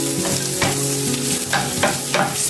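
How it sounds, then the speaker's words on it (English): Nuts and sunflower seeds stir-fried in a pan crackle with a close, busy sizzle, broken by a few scraping stirring strokes. "stir and fry."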